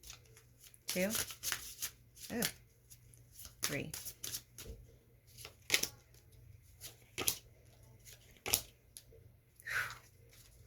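Tarot cards being shuffled in repeated crisp riffling bursts, close and fairly loud, with a person talking between and over the shuffles.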